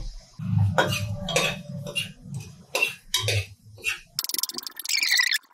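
Whole dry red chilies, cloves and cinnamon are dry-roasted without oil in a pressure cooker. Short clinks and scrapes come in uneven bursts, ending in a brief rattle.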